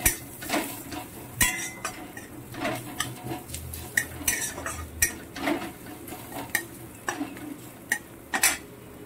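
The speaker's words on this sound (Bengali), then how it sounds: "এবার জালটাকে জোরে দিয়ে আমি ভেঙে নিচ্ছি এটা ভালো করে।" Fried onion and garlic are mashed in a pan, with repeated sharp metallic scrapes and clinks of a utensil striking the pan in an irregular rhythm over a low background.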